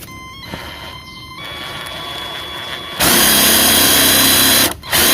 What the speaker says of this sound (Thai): เดี๋ยวผมขอเจาะเพิ่มนิดนึงครับ